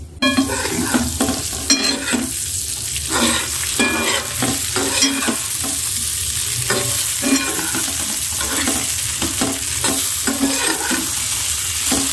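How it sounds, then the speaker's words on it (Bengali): Masala-coated fish frying in a pan, a steady loud sizzle running throughout, broken by frequent close clatters and scrapes of a spatula turning the pieces. "কাঁকরোল ভাজার পর এখন মাছগুলি ভেজে নিচ্ছি"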